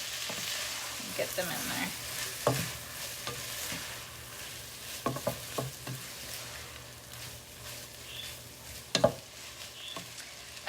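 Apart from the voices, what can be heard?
rajas (pepper strips) frying in a pan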